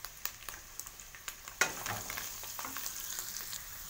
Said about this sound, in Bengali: এবার আলুটাকে 2-3 মিনিটের মতো একটু ভালোভাবে কষিয়ে নেব।